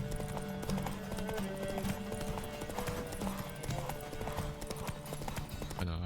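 A horse gallops in a race in The Witcher 3: Wild Hunt, a steady rapid clip-clop of hooves that runs throughout, close and busy with faint game sounds beneath it.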